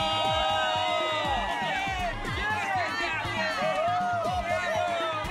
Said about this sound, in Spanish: Recibamos con un fuerte aplauso a Jessica.